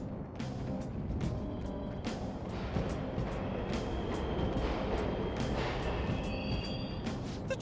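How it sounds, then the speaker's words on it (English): Subway trains running in the video game Persona 5 Royal, a steady, loud rumble with rattling clanks and squeals throughout, heard alone with no talk. "The trains are totally running!"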